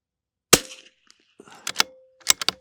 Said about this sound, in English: We are shooting at an uphill range.